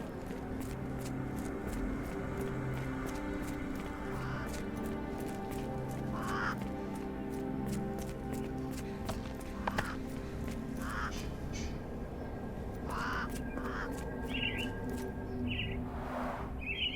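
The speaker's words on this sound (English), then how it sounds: "Minor birds, if I'm not mistaken. Beautiful creatures. Sad that they're caged here." Caged mynah birds in a Sherlock Holmes video game give scattered chirps and short calls, some near and some farther off, over a steady low ambient hum.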